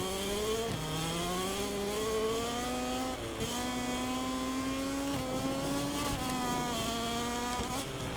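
Engine of a Gasgas Tech3 KTM racing motorcycle in MotoGP 24 during a pre-season test at Lusail, Qatar: a loud, sustained high-pitched whine that rises through the revs and drops sharply at several gear shifts, alone without voices.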